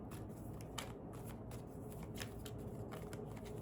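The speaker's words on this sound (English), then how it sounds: "Let's shuffle it again." Tarot cards shuffled by hand, a close, soft run of rapid riffling flicks and slaps repeating steadily with no voice over it.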